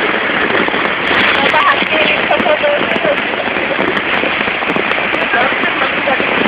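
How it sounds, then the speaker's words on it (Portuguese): Heavy rain pours steadily on a surface at a campsite in Barra do Una, Jureia-Itatins, Brazil, with strong wind, a dense, loud hiss of drops that continues without pause. "Fomos presenteados hoje com uma chuva maravilhosa. E forte"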